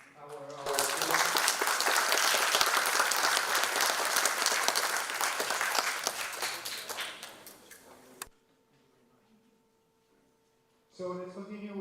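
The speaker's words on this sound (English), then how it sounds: "Let's applaud" Conference audience applauds students, a dense sustained clapping that fills the room for about eight seconds, then cuts to near silence before a voice begins speaking.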